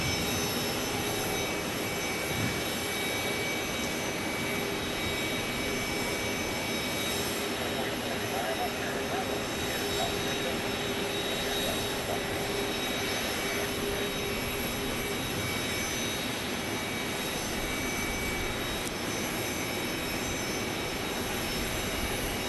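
Aeromexico jet airliner at Phoenix Sky Harbor airport on a hot, humid day, heard as a steady, broadband engine roar that holds loud throughout, with faint voices in the background.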